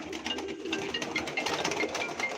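Pigeons, game birds at a live auction, coo close by in soft repeated throaty calls that overlap steadily throughout.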